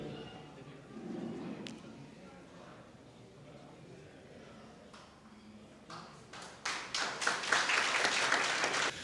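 Applause for the Beltiya Yuvak Sangh group at a Holi celebration, with scattered claps rising into louder, denser clapping toward the end, under background crowd chatter.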